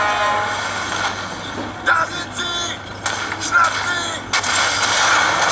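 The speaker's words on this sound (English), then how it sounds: "That's me lobbing a grenade to make my efforts easier." Grenade blasts and gunfire from a phone shooter game on an LG G3, with sharp broadband bursts around the two-, three- and four-and-a-half-second marks over steady battle noise and faint background talk.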